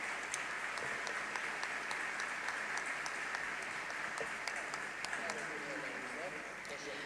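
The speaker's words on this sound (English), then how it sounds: "A round of applause, please." Audience applause at the Sabancı University 2018 professional graduate programs commencement ceremony, a steady, fairly distant wash of many hands clapping that holds evenly through the whole stretch with sharper individual claps now and then.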